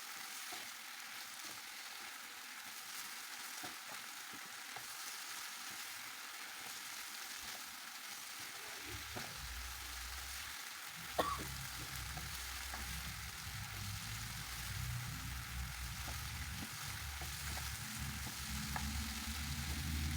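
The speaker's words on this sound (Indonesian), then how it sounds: "Diosreng-osreng terus agar rasanya merata ya." Eggplant and chicken stir-fried with sweet soy sauce and oyster sauce. A soft, continuous sizzle is broken by scraping stirs and one sharp clink, with a low rumble growing in the second half.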